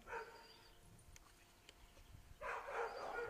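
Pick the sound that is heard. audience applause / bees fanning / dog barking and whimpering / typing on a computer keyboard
dog barking and whimpering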